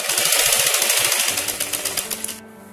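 Sewing machine stitching two fabric pieces together for chudidar pants, a fast loud rattling run of needle strokes that slows into separate clacks near the end before stopping abruptly.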